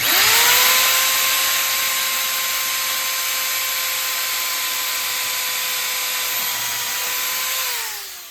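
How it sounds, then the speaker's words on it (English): Power drill boring holes through a subwoofer box for T-nuts, a steady loud whine running continuously for about eight seconds before winding down, no talking. "You just put the sub in there and you just run your drill through the hole"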